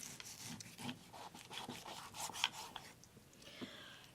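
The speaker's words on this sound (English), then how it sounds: "So I'll cut the meat into several chunks and put them in the mixing bowl." A knife slices raw pork into chunks for Vietnamese braised pork, giving soft, irregular rubbing and scraping strokes on a cutting board, close and moderately quiet, with no talk.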